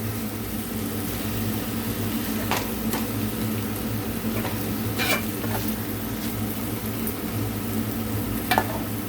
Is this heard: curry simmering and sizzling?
yes